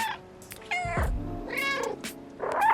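A cat in the video game Stray meowing, a few distinct plaintive meows in sequence, close and clear with no talking.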